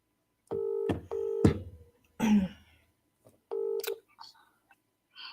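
Telephone keypad tones from a call being dialed: a few crisp, clipped electronic beeps separated by gaps, with soft rustling and a brief breathy noise in between.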